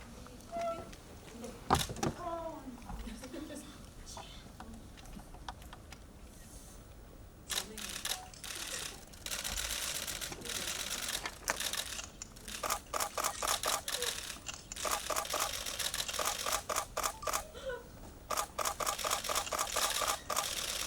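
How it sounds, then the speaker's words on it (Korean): Camera shutters fire during a photo session at a Korean film press preview. After a brief voice, bursts of rapid clicking from several cameras overlap and continue densely to the end. "네, 마지막으로 감독님과 배우 두 분 다 같이 사진 촬영 진행하겠습니다."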